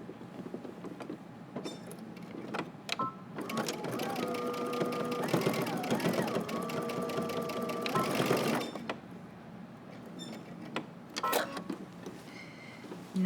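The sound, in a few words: sewing machine stitching jacket seam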